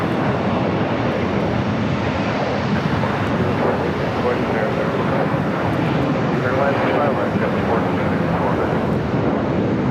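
A jet airplane roars at LAX airport, a loud, steady broadband rumble of engines on the south side runways, with no clear voices over it.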